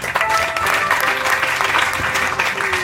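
A church congregation applauding during a French-language prophetic service, giving dense, steady clapping from a crowd throughout with some voices calling out underneath.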